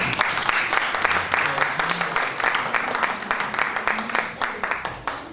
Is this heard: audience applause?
yes